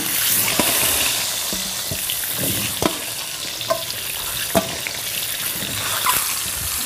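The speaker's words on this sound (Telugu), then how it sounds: "ఇప్పుడు ఇందులో గుడ్లు వేద్దాం" Eggs with curry leaves fry loudly in a pan, a constant close sizzle broken by several sharp scrapes and taps of a spatula stirring against the metal.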